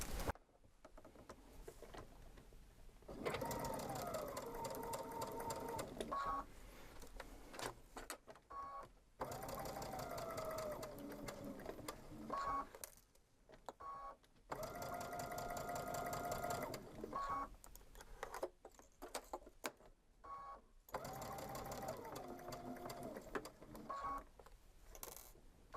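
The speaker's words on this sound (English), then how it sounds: "I want you to notice when I stop sewing, the machine automatically leaves the needle down and raises that foot up." A sewing machine stitches fabric around curves without pins, running in long, fast, rattling stretches, stopping now and then with the needle left down before whirring back up, close and steady.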